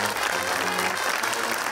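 Studio audience applause on a Pakistani comedy talk show, a dense burst of clapping from a crowd filling the whole moment, loud and steady with a voice faintly underneath.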